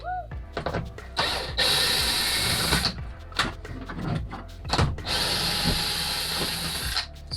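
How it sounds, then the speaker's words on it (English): A handheld power drill fitted with a bit runs in two long bursts separated by short clicks and handling noises during an RV fan installation in a Toyota RV, loud and close with a steady whining motor tone. "With our fancy, handy dandy drill bit set."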